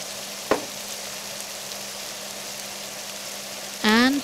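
Spices for an Indian-style venison curry fry in a pot with a steady, moderate sizzle, marked by one sharp knock near the start and a brief voiced tonal sound near the end.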